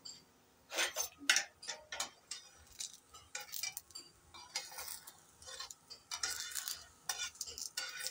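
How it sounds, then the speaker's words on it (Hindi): Aloo paratha nudged and shifted with metal tongs on a pan over low heat, giving repeated short scraping and clinking strokes at close range with a faint sizzle between them. "इस तरह चिमटे की मदद से हम आहिस्ता आहिस्ता हिला लेंगे।"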